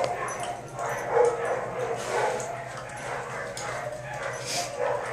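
A dog gives short yips and soft whimpers mixed with faint bark-like sounds indoors, close by, while a person talks to it over the top.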